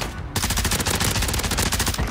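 A glitched Tempest Razorback firing in Warzone: a loud, close, rapid automatic burst of evenly spaced shots that starts abruptly after a brief pause and runs without a break.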